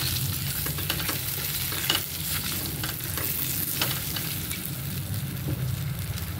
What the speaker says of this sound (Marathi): तेलामध्येच ही वांगी मऊ करून घ्यायची आपल्याला